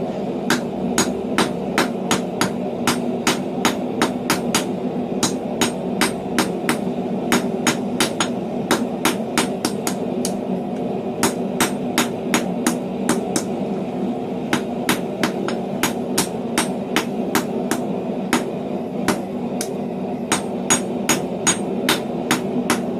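Hammer blows ring on hot steel as a forged sliding bolt for blacksmith tongs is thinned on an anvil, in a steady, evenly spaced rhythm of sharp metallic strikes that continues throughout, close and loud.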